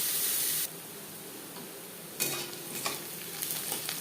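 Onion and garlic frying in a pan: a loud sizzle at first drops to a steady crackle, then swells again with stirring scrapes and spattering bursts.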